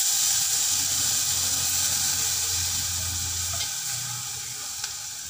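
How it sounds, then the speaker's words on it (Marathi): Washed poha sautéing in hot oil with mustard seeds, asafoetida and turmeric gives a steady, close sizzle and hiss that fades slightly toward the end, with stirring scrapes and no talk. "तर पोहे परतून घ्यायचे यामध्ये छान."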